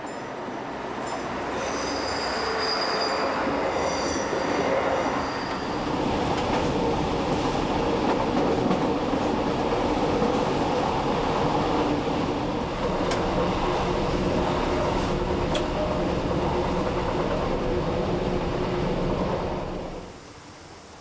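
A Class 628 diesel railcar runs along tracks in Saxony near the Göhren Viaduct between Rochlitz and Glauchau, a loud, continuous rumble with rhythmic wheel clatter and brief squeals that fade out at the end.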